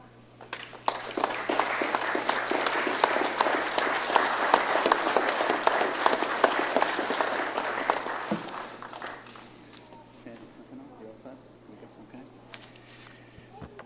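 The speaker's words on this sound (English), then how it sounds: "We'll have another round of applause for all our new appointed officers." An audience at a fire department promotion ceremony applauds its newly appointed officers, with brisk, full clapping starting after a second and lasting roughly seven seconds before it fades into a quiet room with a few scattered taps.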